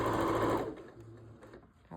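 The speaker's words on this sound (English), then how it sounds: "now what we're doing is sewing into the middle of the back" A sewing machine runs a quick burst of stitching along the middle back of a garment, loud and close at first, then fading to quiet with light handling sounds.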